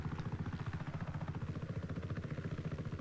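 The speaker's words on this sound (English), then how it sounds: "it's actually easier to fly helicopters" A helicopter flies in the video game Just Cause 3, its rotor chopping in a steady, even rhythm over an engine hum, quiet and constant throughout with no talking.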